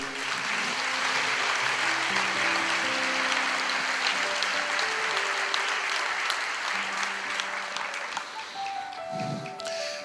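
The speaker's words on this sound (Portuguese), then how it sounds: "A igreja aplauda ao Senhor." A church congregation breaks into sustained, dense applause that fills the room at steady loudness, with a few voices calling out faintly beneath the clapping.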